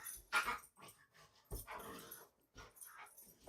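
Two small pet dogs growl and yip in the background, several short rough bursts separated by quiet gaps, fairly faint and not very close.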